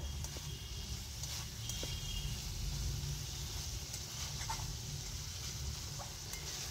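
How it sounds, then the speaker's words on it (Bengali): Masala for a paneer curry being stir-fried in a pan until the oil separates: quiet, steady frying hiss with faint scrapes of a spoon and light clinks, no talking. "এবার একটু তেল বেরিয়ে আসা না আসা অবধি কষবো"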